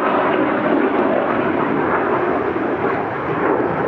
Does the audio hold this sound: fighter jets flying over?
yes